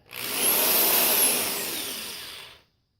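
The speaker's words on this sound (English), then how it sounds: "So I'm going to drill my 2 holes." A power drill boring holes for a homemade fishing rod holder gives one continuous close, loud whirring burst of about two and a half seconds, rising quickly and then tapering off into silence.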